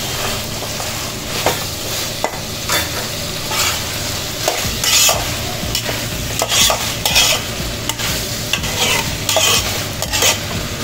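A spoon scraping and stirring boiled elephant yam sizzling in oil in a pan while making a dried fish gravy, a steady close frying hiss with repeated scraping strokes and no talking.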